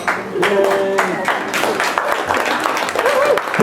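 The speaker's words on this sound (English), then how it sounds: "Big round of applause for Tyrese, everybody" Wedding reception guests applaud after a speech, with lively clapping and a few cheering voices throughout.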